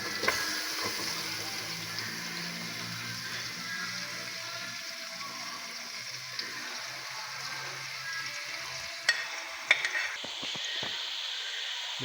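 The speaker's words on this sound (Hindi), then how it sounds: "पहले ऑयल डाल देंगे, बड़े साइज का प्याज डाल देंगे," Large-cut onions sizzle in hot oil with a steady, soft hiss, holding level throughout, with a few brief clicks and knocks near the end.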